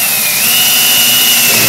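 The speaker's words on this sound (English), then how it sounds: "I'm going to drill a pilot hole on the underside of" A power drill bores a pilot hole into the underside of a wooden jig for a bandsaw crosscut sled, its motor giving a loud, steady whine close by with no talking.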